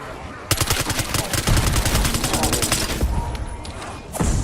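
Frag grenade going off in a zombie shooter game, heard as a dense burst of rapid gunfire-like cracks and booms that runs on continuously, with a voice talking over it.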